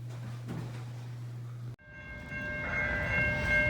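A southbound mixed manifest freight train runs through the streets of La Grange, Kentucky, toward Louisville on a dreary day. A low rumble gives way to loud, sustained horn blasts over rolling rail noise.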